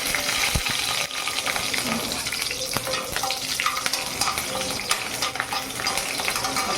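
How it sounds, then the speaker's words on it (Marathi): Mustard seeds and chillies crackle and sizzle in hot oil for a tempering while making kanda poha, a dense, steady frying hiss with sharp pops throughout, close and fairly soft. "असं तळतळीत फोडणी घातली पाहिजे"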